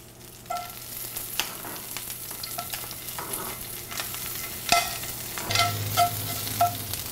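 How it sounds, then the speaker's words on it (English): Garlic sizzling in a pan turned down to medium heat, a soft steady frying hiss with occasional light clicks and scrapes of stirring, fairly quiet and close, no talking. "using the same pan, I turn it down to medium, and I add my garlic"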